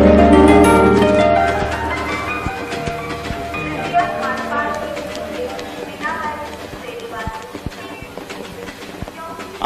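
A train runs on rails, a loud rumbling roll with rhythmic clicks and clacks that fades somewhat over time, while people chatter in the background.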